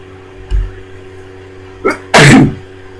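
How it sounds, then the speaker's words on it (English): A single loud, close sneeze indoors during a pool game, a short intake breath just before the sharp explosive burst, with a faint earlier snort. "That is a big sneeze."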